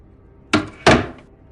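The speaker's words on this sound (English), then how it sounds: "The door closed behind me with a soft thud." A door closes with soft, muffled thuds, two short knocks of impact a fraction of a second apart in an otherwise quiet room.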